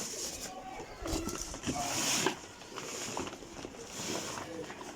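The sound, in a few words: pigeons cooing in a loft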